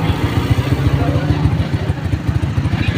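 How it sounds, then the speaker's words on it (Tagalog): A motorcycle on a busy street goes by close up with a rapid, thumping engine beat and clatter, loud and steady over the roar of traffic. "Isang motor."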